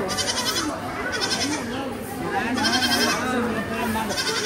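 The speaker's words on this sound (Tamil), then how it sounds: "ஆடு ஆட்டுக்குட்டி" Young goats bleat repeatedly nearby while people talk over them.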